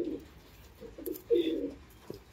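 A female Salara Teddy pigeon gives a few soft, low coos in short bursts at close range, fairly quiet, with a faint rustle now and then and no voices.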